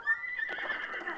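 A horse whinnies in The Legend of Zelda: Breath of the Wild, one short, loud neigh rising over a faint background tone.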